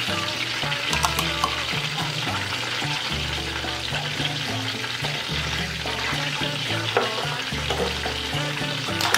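Tomato sauce fries hard in a pot on high heat for Puerto Rican-style rice with calamari, giving a dense, loud, continuous sizzle with faint stirring under a low tonal hum.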